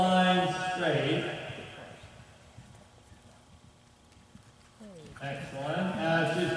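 Horse hooves clip-clop steadily through an arena during a riding clinic, nearer at the start and end and fading in the middle, with people talking over the footfalls.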